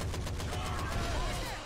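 AK rifle fire in the zombie shooter Left 4 Dead comes as a rapid, loud burst of automatic shots in a steady rhythm, followed by a softer trailing rumble, with no voices.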